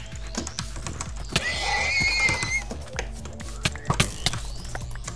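Horse whinnying in a multiplayer shooter game, a high wavering neigh rising over scattered hoof clops, gunshot-like taps and game noise, fairly close and loud, with people talking faintly around it.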